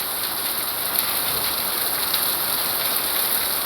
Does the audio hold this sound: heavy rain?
yes